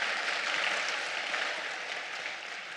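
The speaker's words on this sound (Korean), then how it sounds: "네, 박수 한번 합시다." A crowd applauds at a lecture, dense even clapping filling the room at a steady level before tapering slightly, with no voices over it.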